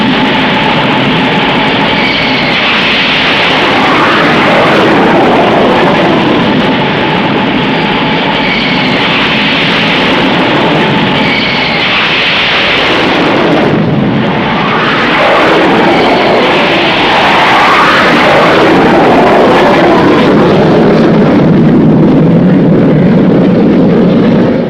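A loud, sustained jet aircraft roar from carrier-based US Navy fighters, attack aircraft and reconnaissance planes rises and shifts in pitch as planes pass, one surging whoosh near the middle, continuous and close with no talking.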